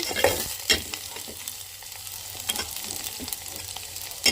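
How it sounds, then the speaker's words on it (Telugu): Vegetables such as carrot and beetroot frying in ghee, giving a steady soft sizzle broken by scraping stirs of a spoon in the pan, close and quiet, with no talking. "ఇవన్నీ నెయ్యిలో ఒక ఐదు నిమిషాల పాటు ఉంచేస్తాను"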